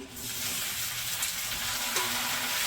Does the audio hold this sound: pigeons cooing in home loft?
no